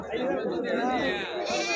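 Goats bleat close by at the Galiveedu livestock market in a steady run of wavering, nasal cries, with a murmur of voices mixed in.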